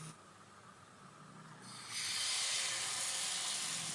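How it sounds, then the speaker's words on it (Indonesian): Mini martabak batter goes into a hot mold in a teflon pan, giving a soft steady hiss that suddenly swells louder partway through and holds as a bright, sustained sizzle. "Sekarang akan kita tuangkan adonan."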